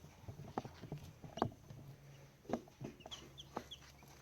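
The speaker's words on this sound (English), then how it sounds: "Little chickens. Little baby chicks." Baby chicks on a farm give faint, scattered cheeps and peeps among soft shuffling and taps, quiet and close, with irregular gaps between the calls.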